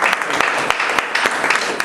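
Audience applause following an introduction at a community talk: a short, dense burst of clapping with sharp individual claps standing out, fairly close and steady throughout.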